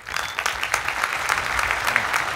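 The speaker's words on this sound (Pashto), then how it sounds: "پی وی آر ښې چکچکې وکړئ" A studio audience at a television anniversary show claps steadily, a dense patter of many hands that holds at an even level throughout without any voices standing out.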